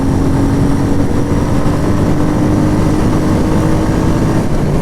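A Royal Enfield Meteor 350 motorcycle with a 27 Nm engine pulls up through its gears, giving a steady, loud engine drone that holds for several seconds with a constant rumble and no speech.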